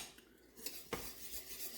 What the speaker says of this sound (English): We're going to keep stirring this.